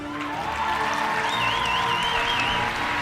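Audience at a church service clapping and cheering, a steady wash of crowd applause throughout with a faint tonal whistle or feedback line drifting above it.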